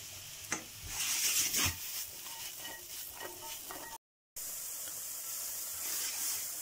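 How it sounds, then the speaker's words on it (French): Mushrooms with thyme and a crushed garlic clove sauté in a pan for a risotto, giving a steady soft sizzle with stirring scrapes and clatters early, a brief cut of silence midway, then sizzling resumes alone. "Et là on va venir les faire sauter pendant la cuisson de notre riz."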